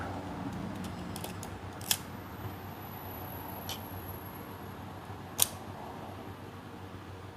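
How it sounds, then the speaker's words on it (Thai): An FX SLR film camera shutter fired on its bulb setting, heard as a faint mechanical click, then a second sharp click a few seconds later closing it, over quiet room hiss. "ลองชัตเตอร์บีดู"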